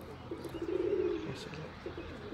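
A pigeon gives a low, soft coo, faint and somewhat distant amid quiet background noise, with a second shorter coo following.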